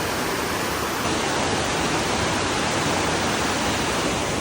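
The large waterfall at Wawa Dam in Montalban roars as a steady, dense broadband wash of falling water, loud and unbroken throughout.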